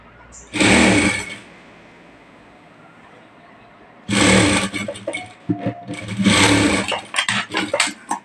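Sewing machine stitching a sleeve, running in short bursts: one brief run, a pause, then a longer uneven run that stops and restarts, close and fairly loud with no talk over it.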